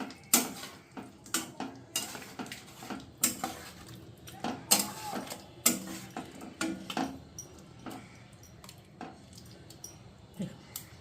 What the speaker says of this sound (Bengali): এবার সব মশলা আমি এটার সঙ্গে ভালো করে মিশিয়ে দেবো